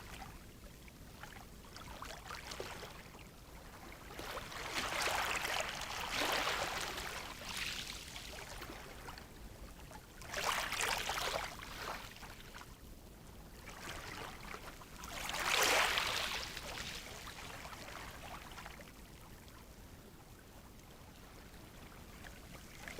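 Ocean waves roll in slow, soft surges roughly every five seconds, each swell rising and falling back into a faint hiss, quiet and unaccompanied by speech.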